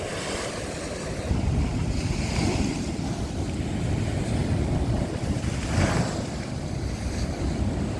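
Stormy sea waves on the Odesa coast along the Fontan shore, a continuous rushing roar of surf with wind buffeting the microphone, swelling now and then, with no talk.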